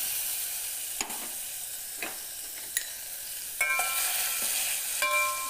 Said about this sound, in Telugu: ఎన్నపూస కొద్దిగా వేగిన తర్వాత ఇదిగోండి ఏగుతుంది